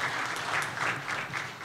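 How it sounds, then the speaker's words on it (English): A short burst of audience applause at an HR analytics conference, many hands clapping together in a moderately loud, continuous wash that lasts just over a second. "Please give him a round of applause."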